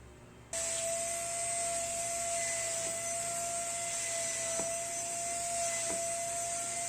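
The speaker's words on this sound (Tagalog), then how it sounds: "I-vacuum na natin yung ating sofa." A vacuum cleaner switches on abruptly and runs with a steady, high whining drone, loud and close, with faint bumps as it moves over sofa cushions.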